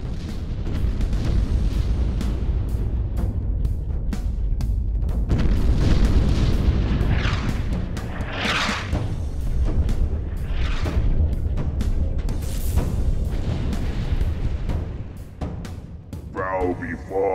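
Heavy booming blasts of Covenant cannons in the video game Halo roll continuously under a dense battle din, with a voice speaking intermittently over the rumble.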